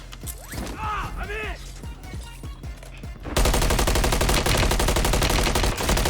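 Rapid automatic gunfire in the video game Warzone hammers out in a dense, loud, continuous burst after a stretch of whooshing mechanical effects and creaks.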